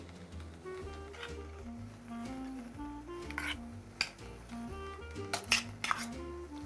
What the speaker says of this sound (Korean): 그릇에 담고요. 허브 다 넣고 그리고 레몬즙 조금 넣고 잘 섞어주신 후에